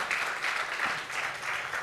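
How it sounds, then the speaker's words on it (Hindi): Audience at a poetry recitation at Lovely Professional University breaking into loud, dense applause, a continuous roar of clapping filling the whole moment. "एक बार जोरदार तालियों से मेरा हौसला अफजाई करें ताकि मैं आगे पढ़ पाऊं।"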